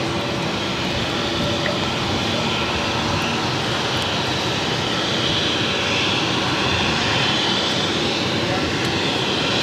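Loud, continuous roar of a JetBlue Embraer E190 jet at Boston Logan airport, broad and steady throughout without pauses.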